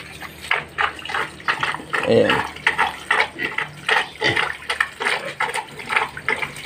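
Water splashes in repeated bursts as it is poured over a sow to bathe her on a farm in hot, humid weather, rhythmic pours close by with someone speaking briefly.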